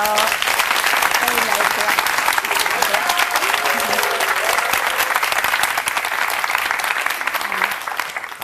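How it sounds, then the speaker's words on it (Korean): A church congregation claps steadily to welcome a woman coming up to give her testimony, a loud sustained applause with faint voices mixed in, tapering slightly at the end. "박수로 환영해 주세요."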